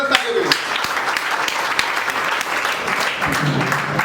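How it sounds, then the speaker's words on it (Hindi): Dense, steady audience applause fills a leaders' meeting hall, with an announcer's voice speaking over the clapping throughout. "तो आपकी ज़बरदस्त तालियों के बीच इन्वाइट करना चाहूँगा मैडम रागनी जी को"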